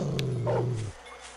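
A dog in the video game Shadow Man gives a short, low growling bark-like sound up close, a single loud burst that cuts off abruptly into quiet background.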